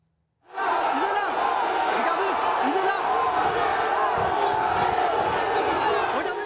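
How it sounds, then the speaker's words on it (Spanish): Crowd of fans shouting and cheering at Lionel Messi's arrival at an airport outside Paris, a loud, continuous roar of voices with rising shouts and whoops, starting abruptly and holding steady. "el argentino Lionel Messi fue recibido con gritos y aplausos a su llegada a su nueva casa en París"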